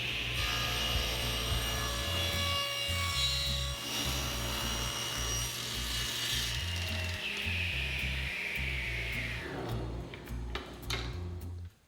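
Table saw-style rip cut through a 1x6 poplar board, a loud continuous whining cut lasting about nine seconds, then the blade spinning down to a stop.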